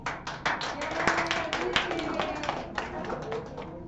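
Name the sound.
audience clapping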